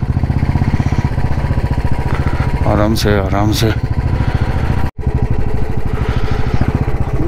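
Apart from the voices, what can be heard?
motorcycle squeezing through a traffic jam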